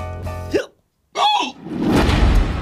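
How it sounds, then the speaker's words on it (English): Hiccups from a puppet character, sharp voiced gulps separated by a brief silence, close and loud, followed by noisy rustling. "Oh, I hate this! Hiccups!"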